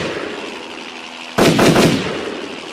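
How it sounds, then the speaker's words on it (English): A single sharp gunshot from a mounted gun fired at a helicopter in the sky, a loud abrupt blast followed by a short decaying rumble, standing alone against faint background noise. "The two soldiers turned the gun towards the sky and Bond shot at the helicopter."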